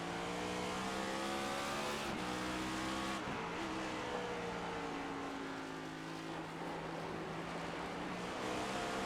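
An iRacing race car laps the Charlotte Roval from an onboard view, its engine droning loud and steady with pitch climbing through gears, dropping on downshifts and rising again.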